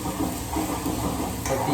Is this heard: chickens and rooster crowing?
no